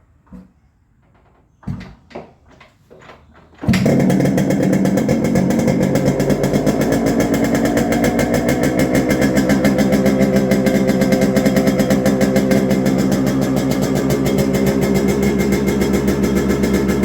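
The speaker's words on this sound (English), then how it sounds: "typical cold start, revs at 4000 rpm" A Yamaha RX135 motorcycle's engine is cold-started after a few faint knocks, then settles into a loud, steady two-stroke idle held at high revs, close by and continuous with no talking.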